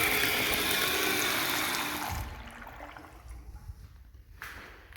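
Water runs from a push-button sink at a campground restroom for about two seconds, a steady broadband rush that cuts off abruptly, leaving faint room noise and small drips.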